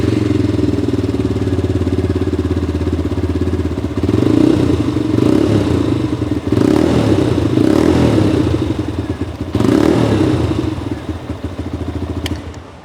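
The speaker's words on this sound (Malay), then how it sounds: "kita dengar Hawk 200 punya engine noise macam mana" WMoto Hawk 200i dual-sport motorcycle with a stock exhaust, its engine running close and loud with an even idle chatter, lifted by a few short revs.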